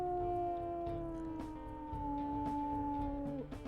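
A lone wolf in the game WolfQuest lets out a long, sustained howl that holds a steady pitch, then bends and drops near the end, heard clearly over faint background noise.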